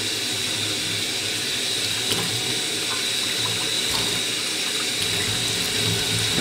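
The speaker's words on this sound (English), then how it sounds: "Now I'm doing this with hot water." A tap runs hot water steadily over wet wool felt, rinsing out suds in a sink; a loud, continuous splashing rush with small surges and no speech.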